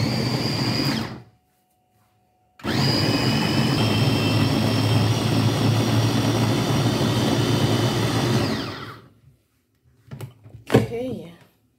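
A blender roars loudly and steadily, mixing ingredients for baked fish, starting after a short pause, running for several seconds, then cutting off, followed by faint handling clatter.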